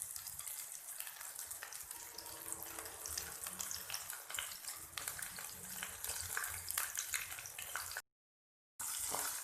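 Broast chicken pieces frying in reused oil over a slow flame, a steady close bubbling sizzle with dense crackles that runs continuously, briefly cut off before resuming, with no talk.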